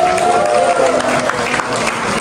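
Applause from a crowd at a Christmas Kalingap Ball gathering, a dense steady wash of clapping that fills the room for a couple of seconds, with faint voices mixed in beneath it.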